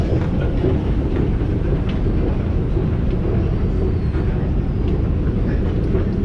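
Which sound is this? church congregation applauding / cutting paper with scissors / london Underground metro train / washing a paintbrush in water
london Underground metro train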